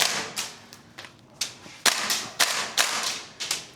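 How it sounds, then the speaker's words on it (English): A Gunsmodify SCAR MWS airsoft rifle fitted with a steel bolt fires in a string of about a dozen sharp, uneven shots, close and loud, with a sluggish cadence. "it's firing a bit sluggish with that steel bolt"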